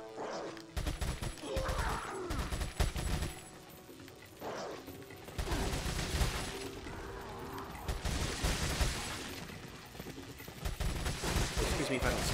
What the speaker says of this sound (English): I had to shoot him in case he had a plaga